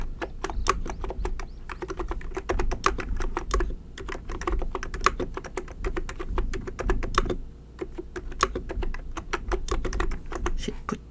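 Steady computer keyboard typing at close range, a rapid run of crisp key clicks with brief pauses, including Tab key presses while text is entered on a presentation slide.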